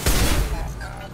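A brief loud burst of gunfire in the sci-fi shooter Mass Effect 2, one sharp close volley that decays quickly into a rumble.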